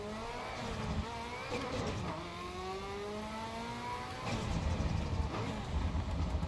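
A twin-turbo race car engine in Assetto Corsa EVO revs hard, pitch climbing through gears with a brief dip and surge, loud and close throughout.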